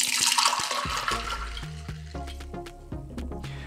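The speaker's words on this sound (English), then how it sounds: "I'm gonna grab our Mai Tai glass behind me and then open pour right in." Non-alcoholic Mai Tai being open-poured from a freshly cracked container straight into a Mai Tai glass over ice, a continuous liquid splash and trickle with clinks of ice, steady and close, no talking.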